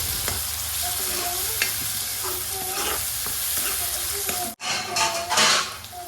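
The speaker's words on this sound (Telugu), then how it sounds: "టమాటాలు కొంచెం ఫ్రై అయిన తర్వాత మూత పెట్టుకొని మగ్గనివ్వాలి" Chopped tomatoes frying in a pan for vada curry, a steady close sizzle with occasional stirring scrapes, briefly cut off and then resuming.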